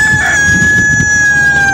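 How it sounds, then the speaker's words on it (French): A rooster crows a loud, close cock-a-doodle-doo, one sustained shrill call stretching across the whole moment and ending with a falling note. "Être réveillé dès les premières lueurs du jour par le puissant cocorico du coq."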